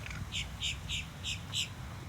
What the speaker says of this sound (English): I love the bird sounds.